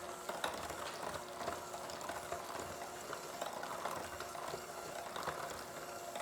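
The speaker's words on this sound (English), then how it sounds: "So get out my blender, get a little mix on all this so everything gets incorporated." Faint steady mechanical whir of a blender mixing granola ingredients with melted butter, a continuous grinding, rattling churn running throughout at low volume with no talk.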